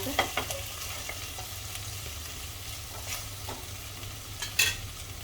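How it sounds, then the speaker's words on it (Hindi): Spiced cauliflower sabzi being stirred and fried in a pan: a steady, quiet sizzle with scattered spoon scrapes and taps against the pan, and no talking. "1-2 मिनट के लिए भून लेंगे इस तरह से चला कर।"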